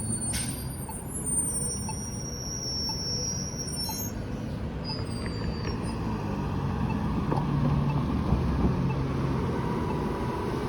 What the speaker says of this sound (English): Here comes the Gilligs CNG bus.